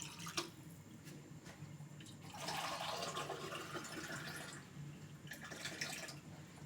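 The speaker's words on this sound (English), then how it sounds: "And I'll add 2 cups of water." Water is poured into a pot of washed mutton before boiling, a soft splashing gush rising for a few seconds over quiet background, then easing off with a short trickle near the end.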